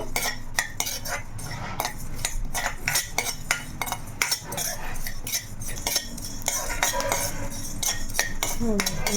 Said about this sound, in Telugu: ధనియాలు చెక్క లవంగ లవంగాలు అనమాట ఇవి కొంచెం వేపించుకుందాము